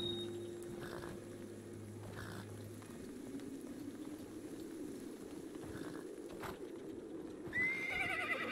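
A horse in Minecraft Legends whinnies faintly within a steady bed of game ambience and low hum, with a soft hoof-like clatter and a brighter tone rising near the end.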